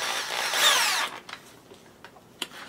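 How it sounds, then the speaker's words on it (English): A handheld power drill bores a 7/64 hole into a blaster prop scope. It gives a loud, close whirring burst of about a second, then falls to quiet handling clicks and taps. "I'm going to go ahead and just do it with the drill here."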